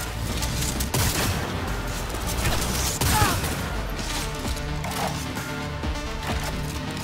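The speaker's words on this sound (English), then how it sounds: "Alright, I think it's sniper rifle time." Gunfire during a Cyberpunk 2077 firefight, a dense, loud barrage of shots and impacts running nonstop, with a few sharper cracks that fit sniper rifle fire.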